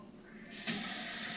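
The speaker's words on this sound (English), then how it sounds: "Okay, turn on water." Water gushes from a sink tap turned on for handwashing, switching on about halfway through and settling into a steady, close hiss with no talk.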